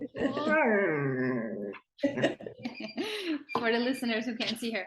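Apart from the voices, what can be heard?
dog growling and whimpering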